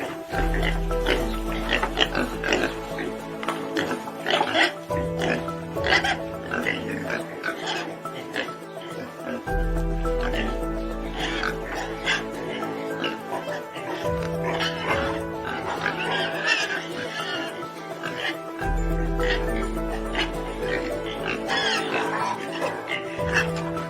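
Pigs on a pig farm grunt and oink continuously, several animals close and loud, with repeating deep low grunts and higher squealing calls layered over each other throughout.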